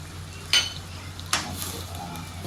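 Adobong kangkong with oyster sauce being stirred in a pan: a low steady hiss of frying with a few sharp utensil scrapes and clinks against the pan, close and moderately loud.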